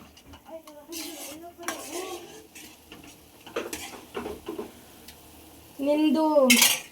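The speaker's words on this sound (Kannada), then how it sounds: "ಎಲ್ಲ ಇದಕ್ಕೆ ಹಾಕೊಂಡು ಚೆನ್ನಾಗಿ ಮಿಕ್ಸ್ ಮಾಡ್ಕೊಳ್ಳಿ" A spoon scrapes and clinks against a pot while moong dal payasam is stirred, with irregular metallic knocks and scrapes spread over several seconds and a brighter, louder clatter near the end.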